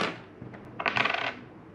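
A coin drops and rattles against a hard surface, a short bright cluster of metallic clinks and a brief ring that fades out. No one speaks.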